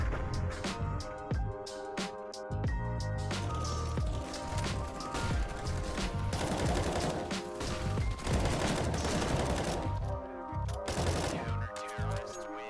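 Rapid bursts of video game gunfire crackle and rattle in quick, uneven volleys for several seconds, sitting over steady tonal game sounds, with no one speaking.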